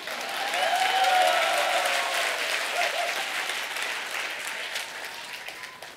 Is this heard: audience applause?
yes